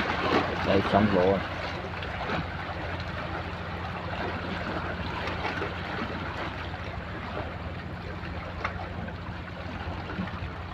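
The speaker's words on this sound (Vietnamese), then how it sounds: "Sóng vỗ." Sea waves lap steadily at a shore where fishing boats are out, a continuous soft wash that runs through the whole stretch, with a brief louder patch near the start.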